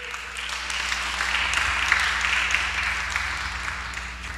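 A church congregation applauds together, a steady wash of clapping that holds at an even level for several seconds with no speech over it.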